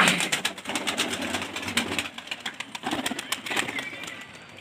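A female pigeon settles onto a perch and coos, soft throaty calls mixed with fluttering and scuffling close by, over a rustling background.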